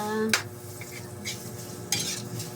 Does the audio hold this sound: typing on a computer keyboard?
no